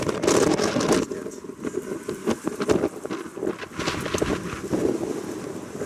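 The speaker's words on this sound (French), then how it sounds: "il y a trop de vent" Strong gusts buffet the microphone on a Paris street, a loud, continuous low rumble with shifting bursts throughout and no voices.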